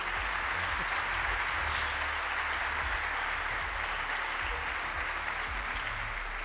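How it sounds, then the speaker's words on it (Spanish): Sustained applause from a crowd, steady and full throughout with no pauses. "un aplauso para ella que la tenemos aquí delante"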